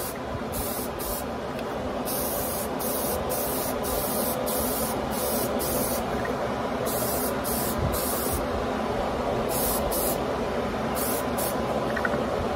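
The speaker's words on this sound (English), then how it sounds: "We're going to do this a couple more times, get a good coat of primer on this thing." An aerosol can sprays primer onto a 1974 AMC Hornet scale model car in a steady close hiss, broken by short bursts and brief gaps as the nozzle is pressed and released.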